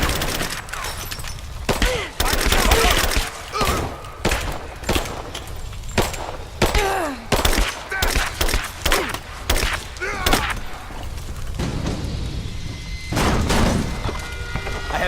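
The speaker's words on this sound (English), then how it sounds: "Laying down covering fire!" Bursts of gunfire and heavy impacts in a firefight in the video game Rise of the Tomb Raider, loud and near, coming in rapid irregular volleys with brief pauses, and a few voices calling out in between.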